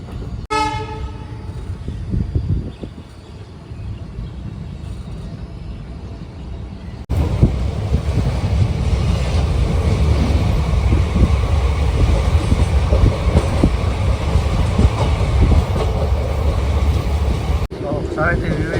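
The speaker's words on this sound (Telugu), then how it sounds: "మార్నింగ్ 6 కొంత ట్రైన్ అయితే వచ్చేసింది" A morning train on the railway line near Goa sounds a long horn blast, then thunders past close by with a loud, sustained rumble and clatter of wheels on track for about ten seconds before easing.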